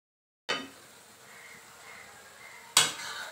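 Spice paste cooking in a pan for a dry fish roast, with a sharp scrape of a utensil at the start, then a soft low sizzle and quiet stirring, and another clatter of the spoon against the pan near the end.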